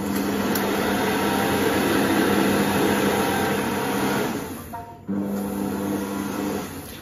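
A kitchen food processor runs at speed 4, mixing homemade laundry detergent: a steady, loud motor whine with a brief dip near the end before the hum resumes.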